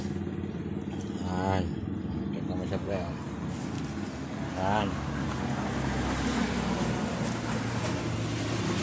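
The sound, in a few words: noisy motorcycle engine running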